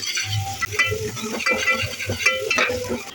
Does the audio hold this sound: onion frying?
yes